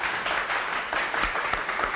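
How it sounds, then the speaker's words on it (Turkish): A crowd at a comedy contest in Nusaybin claps steadily throughout, a dense wash of applause with a few sharper individual claps standing out. "bir alkış alalım"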